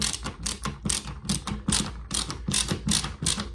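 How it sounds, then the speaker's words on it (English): Screws being tightened on a recessed downlight fixture during installation, giving a run of quick ratcheting mechanical clicks in short repeated bursts, close and fairly loud, with no talking. "Do the other side, and then we can tighten them both."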